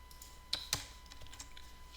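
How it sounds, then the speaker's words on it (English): A few sharp keyboard clicks while typing on a computer, two distinct strikes close together followed by faint lighter taps, heard up close in a quiet room. "So if I wanted this to be a grid instead, I would just type grid"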